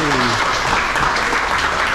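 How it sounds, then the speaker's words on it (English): A village gathering in Guyana claps after a birthday song, loud and close, with a few voices and cheers mixed into the applause. "Give him a big round of applause"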